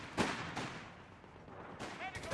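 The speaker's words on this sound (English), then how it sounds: "MG 42! The cowards are shooting at us!" MG 42 machine gun fire in Company of Heroes 3 battle, several bursts of gunfire cracking in the mix, with a brief sharp burst near the start and another cluster toward the end over a steady battlefield wash.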